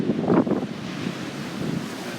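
Ocean waves breaking at Refugio Beach on the Pacific coast, a steady broad wash of surf mixed with gusty wind buffeting the microphone, with no speech.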